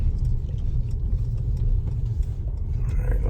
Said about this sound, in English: I'll just go out onto the street and go for a short blast up the road.